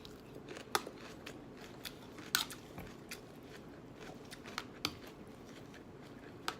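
Crisp bites and crunching of a lettuce salad with French onion and French dressing, lime juice and sriracha, close up with irregular crackling chews spread through the quiet.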